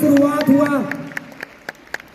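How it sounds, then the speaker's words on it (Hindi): At a Safeshop business celebration, a voice briefly opens before clapping for his wife takes over, coming as sparse, evenly spaced claps that carry on alone to the end. "जोरदार तालियां इनके लिए।"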